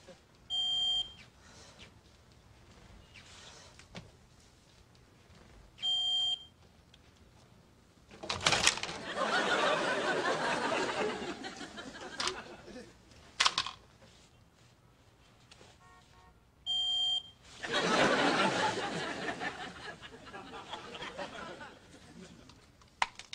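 A smoke detector gives short, piercing electronic beeps at spaced intervals in a quiet room, alternating with louder bursts of noisy sound and laughter.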